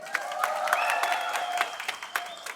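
Applause from a live concert audience with many hands clapping at once, sounding fairly distant and soft and holding steady for a couple of seconds.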